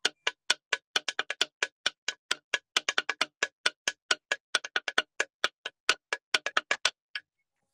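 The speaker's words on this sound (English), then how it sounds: "we can try and practice a basic Taino rhythm." A basic Taino hand-drum rhythm in a drum circle setting, a steady pattern of sharp, dry strikes with some quick doubled hits, played alone and fairly close for about seven seconds.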